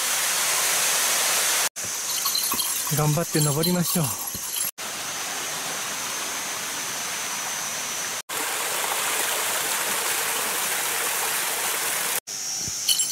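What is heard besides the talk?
waterfall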